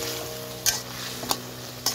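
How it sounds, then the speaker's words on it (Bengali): Mutton curry with raw cumin powder is stirred in a pot, three short spoon scrapes cutting through a soft continuous simmer-sizzle. "ভালো করে নেড়ে নিচ্ছি।"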